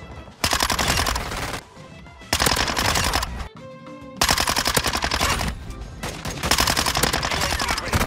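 The Minibak (Bison) submachine gun in Modern Warfare 2 fires in four long, loud rapid bursts separated by short pauses, close and dominant, with no talking over it.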